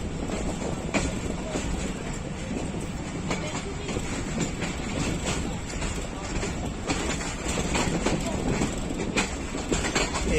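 Thall Express passenger train of Pakistan Railways rolls around a curve at Taxila, a steady rumble with rhythmic clickety-clack of wheels and faint squeals, moderately close, with voices murmuring underneath.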